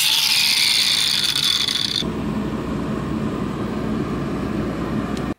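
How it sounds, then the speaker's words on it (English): A DeWalt chain link removal tool working on the chain of a 2020 Honda CRF110 dirt bike, a loud, steady grinding whir close by that eases slightly partway through and cuts off at the end. "He's currently using his chain link removal tool."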